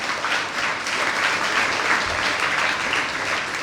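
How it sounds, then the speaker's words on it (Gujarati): Audience at a library summer reading festival closing ceremony clapping for the library staff, a steady, dense round of applause from a crowded hall, loud and continuous with no talk. "બીજો તાળી અમારા કર્મચારીગણ માટે પાડો"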